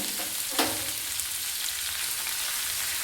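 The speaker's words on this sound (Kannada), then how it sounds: "ಈಗ ಇದಕ್ಕೆ ಹೆಚ್ಚಿಟ್ಕೊಂಡಿರ್ತಕ್ಕಂಥ ಹಸಿಮೆಣಸಿನಕಾಯಿ ಸೇರ್ಸೋಣ, ಹಾಗೆ ಕರಿಬೇವು ಸೇರ್ಸೋಣ" Chopped green chillies and curry leaves hit hot oil in a pan with a sharp burst of sizzling that settles into a steady, close frying hiss, with no talk.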